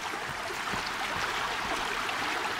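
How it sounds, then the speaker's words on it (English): Water pouring steadily down a cable in the survival game Sons Of The Forest, a constant rushing hiss like a small waterfall, fairly loud and unbroken throughout, with no voices. "Is that just water coming down the cable?"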